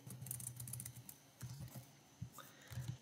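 Steady, quiet clicking of a computer keyboard as code is typed, irregular bursts of keystrokes with short pauses, close-up with no voices.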